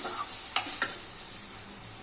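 Chopped tomato and onions frying in a pan for egg rice, a steady soft sizzle running throughout with two brief clinks of a stirring utensil near the start.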